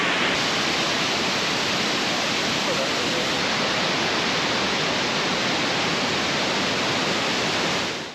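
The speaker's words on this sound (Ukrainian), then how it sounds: "Сама назва цього водоспаду означає щось там веселка, веселковий водоспад" The Rainbow Waterfall in Chiang Mai, Thailand gives off a steady, broad roar of falling water that stays constant and dense throughout, with no breaks.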